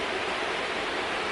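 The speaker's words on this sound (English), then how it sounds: "I don't know if you can hear the rain, but she is pouring right now." Heavy rain pouring down in mountain wilderness in Jasper's Fryatt Valley, a dense, steady hiss of broadband noise with no breaks, heard up close from shelter beneath a tree.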